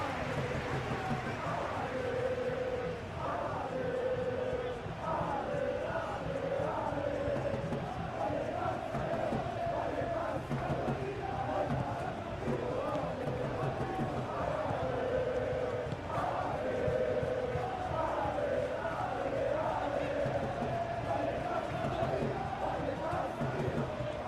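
Stadium crowd noise from a PES 2 football simulation of Rayo Vallecano versus Real Madrid, a steady continuous roar with rising chant-like swells running throughout, loud and unbroken.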